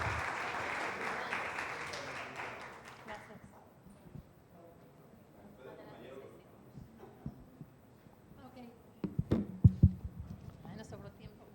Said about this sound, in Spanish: Aplauso, muchas gracias.